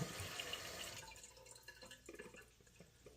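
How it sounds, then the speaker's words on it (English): A toilet that won't stop flowing keeps running water, a steady rushing hiss that fades into softer trickling and drips, close and alone without speech. "If you have a toilet that won't stop flowing, just like this one"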